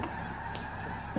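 Migrating geese honk overhead, a few faint, far-off calls over steady outdoor background noise.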